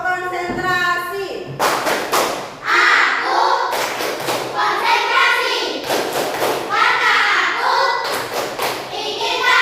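Indonesian schoolchildren in an Islamic education class do a patterned concentration clap, repeated bursts of crisp group claps close by, interleaved with energetic children's chanting.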